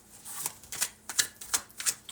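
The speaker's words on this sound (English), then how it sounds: "Maybe some decisions. Let's shuffle." A deck of tarot cards gets shuffled up close in about six crisp, riffling bursts spaced roughly evenly, each a short papery flutter, with no talking.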